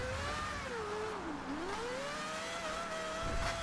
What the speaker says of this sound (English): The 4 rotor sounds absolutely insane